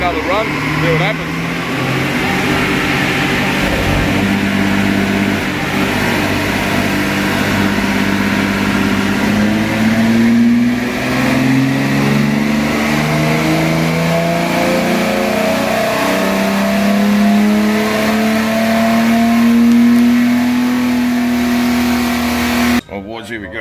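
Loud and continuous, a 265 Hemi engine on a dyno drones through a long run, its tone rising steadily as the revs climb, then drops away suddenly in the final moment.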